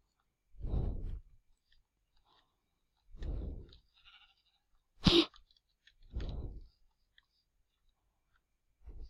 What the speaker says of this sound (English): Oh, that sheep scared me.